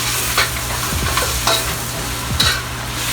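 Vegetables for pepper steak with noodles and kale stir-fry quickly in a hot pan, a steady close sizzle broken by a few sharp scraping stirs, with no talking.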